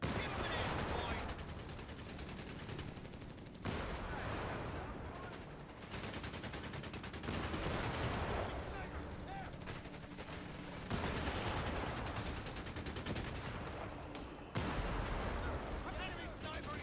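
Heavy gunfire and artillery in a war video game: dense, continuous bursts of shots and booming blasts, loud and close, surging in waves with brief dips between them.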